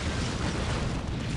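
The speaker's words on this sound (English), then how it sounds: "Firing straight into the belly of the Morkanaut." Weapons fire in the Dawn of War strategy game sets off a dense, continuous roar of explosions, loud and noisy throughout with no pauses, and no talk heard.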